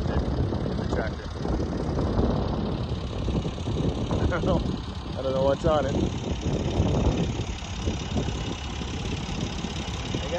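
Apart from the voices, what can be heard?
tractor engine idling in pasture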